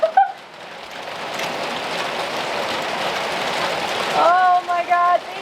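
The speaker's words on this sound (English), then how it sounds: "Here comes the rain!" Steady rain pours in the high desert, a dense even hiss lasting several seconds, with a brief voice at the start and excited voices breaking in near the end.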